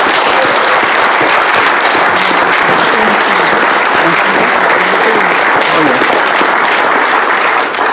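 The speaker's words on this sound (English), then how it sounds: "adler, who has been with us a long time, and I think we should give him a round of applause and thank him very much for his service to the Council over the years." Sustained, loud applause from a council meeting audience honoring a retiring council driver, steady dense clapping filling the room for the whole stretch with no break.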